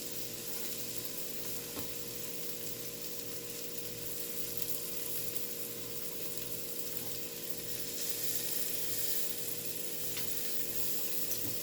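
Garlic sizzles and fries steadily in a pot on the stove while being stirred, a continuous close crackle with faint scraping and a low hum underneath, no one talking.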